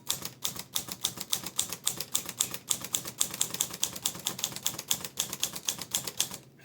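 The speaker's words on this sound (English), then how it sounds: "Let's just do some typing." Olivetti Lettera 22 manual typewriter being typed on: a fast, steady run of crisp mechanical key strikes, evenly spaced and close, with no talk over it.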